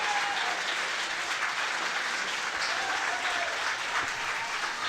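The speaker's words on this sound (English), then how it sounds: "he gets a huge round of applause as he comes down this right hand side" Steady crowd applause at a Cavan intermediate championship final match as a substitute player comes on, a continuous moderately distant clapping wash lasting several seconds.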